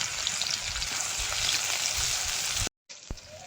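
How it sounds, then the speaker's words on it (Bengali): Panch phoron, chopped onion and garlic paste fry in oil with a dense, steady crackling sizzle that cuts out abruptly, then resumes more faintly with a single knock. "তেলের মধ্যে পাঁচ ফোড়ন দিয়ে দেবো, পেঁয়াজ কুচি, রসুন বাটা"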